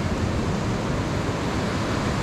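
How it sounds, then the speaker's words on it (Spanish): Sea waves break on a beach in Baja California Norte, a steady, full wash of surf with no distinct crashes, loud and close, with wind against the microphone. "Estas olas del mar que se oyen muy bonitas aquí."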